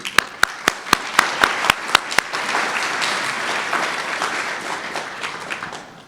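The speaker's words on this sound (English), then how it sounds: "a bit of applause for Ken" Applause for speaker Ken Miller at an NC State lecture, opening with several loud, evenly spaced claps up front before dissolving into a steady, fuller round of clapping from the audience.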